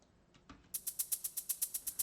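A few soft hits, then an electronic shaker loop in an organic house track plays a steady, bright rhythmic pattern of crisp hissy pulses.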